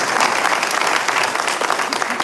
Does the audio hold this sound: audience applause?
yes